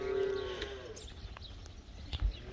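A calf on a dairy farm gives one drawn-out low moo at the start, followed by quieter barn rustles and a soft thump.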